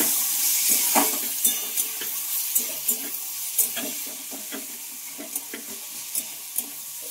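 Pointed gourd with tomato and green chilies stirred in a sizzling pan, a steady frying hiss under repeated scrapes and clacks of a spatula, close and fairly loud.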